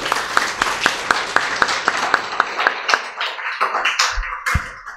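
An audience at a children's performance workshop claps in a rapid, steady rhythm that breaks into looser, scattered claps and taps near the end, close and fairly loud.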